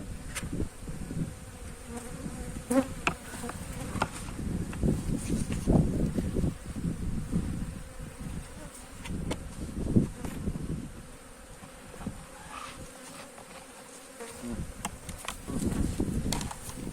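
Dense, steady buzzing of many honeybees close by in a ten-frame hive, a continuous droning hum with occasional rustling.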